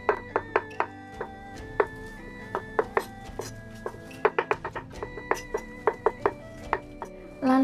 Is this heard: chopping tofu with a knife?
yes